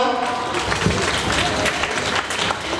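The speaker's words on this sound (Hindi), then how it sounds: "सब लोग एक साथ आइए, हाउस के जमुना हाउस के लिए ताली बजाएं।" Sustained applause from a crowd at a school annual day celebration for Jamuna House, dense and continuous throughout, fairly loud, with indistinct voices mixed in.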